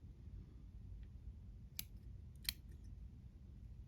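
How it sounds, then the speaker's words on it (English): Scissors snipping dubbing on a carp skittle fly at the tying bench, two quick, faint, sharp cuts against quiet background hiss. "Now I'm going to trim up this dubbing a little bit because it got a little ski-wampus and crazy on me."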